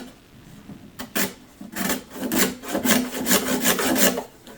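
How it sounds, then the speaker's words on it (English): A razor-sharp steel scraper shaves leftover kerfing from the wooden body of an SS Stewart arch-top guitar under restoration, giving a series of close, dry rasping strokes in quick bursts, with no talk. "now I'm taking a razor sharp scraper and I'm just getting rid of the remnants of kerfing"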